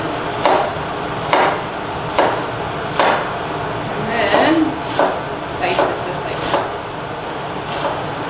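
A knife chops carrots on a cutting board in a series of sharp, evenly spaced thuds, close and clear, about ten strokes over several seconds, with a voice talking between cuts.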